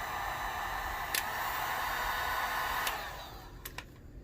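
A heat gun blows steadily on shrink tubing wrapped around an HID headlight wire on an Acura RSX, a constant close airy roar that fades and thins toward the end, with a few brief clicks.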